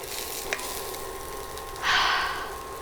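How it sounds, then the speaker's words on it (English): Diced carrots sautéing with ginger garlic paste for egg drop soup: a quiet background hiss that swells into a louder, brief sizzle burst in the final second, heard close up with no talking. "when you saute that ginger garlic paste along with some carrots"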